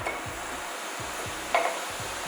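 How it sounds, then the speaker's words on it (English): Steady hissing sizzle of onions and garlic in a hot pot, with soft rhythmic stirring scrapes underneath and a brief clink midway. "you hear that little bit of sizzle there, that good sign that your pan is nice and hot"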